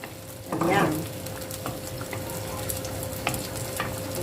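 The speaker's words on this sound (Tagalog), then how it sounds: "So, ilalagay ko na yung ating sitaw." String beans tipped into a pot of simmering squash and shrimp in coconut milk make a short splash and rustle, then a soft, steady bubbling continues beneath it.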